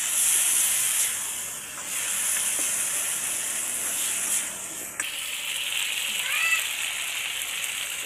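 Ground spices such as cumin and coriander hiss and sizzle in hot oil in a pan, a steady steamy crackle running throughout, close and moderately loud.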